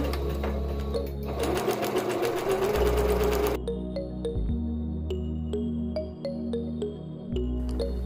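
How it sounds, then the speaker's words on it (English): A sewing machine stitches around the edge of a satin-lined African print headwrap bonnet, running in fast continuous bursts with brief pauses and mechanical whirring up close. "Sew all the way around your bonnet in a complete circle."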